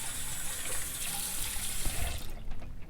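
Warm water runs steadily from a household tap into a sink for rinsing an oral appliance case, a continuous close hiss that cuts off near the end.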